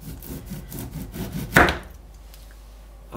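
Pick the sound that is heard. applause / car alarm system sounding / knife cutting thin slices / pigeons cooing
knife cutting thin slices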